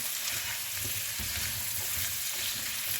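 Mild sausage sizzles and crackles in a frying pan alongside red potatoes and onions, a steady dense hiss with small pops throughout, close and unbroken, with no talking.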